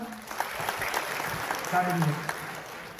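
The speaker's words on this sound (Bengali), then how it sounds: "ঠিক আছে, সবাই হাততালি দিবেন আপনারা।" Audience applause at a prize-giving ceremony during a ministerial event: a steady wash of clapping from a crowd that runs the full length, with voices talking over it.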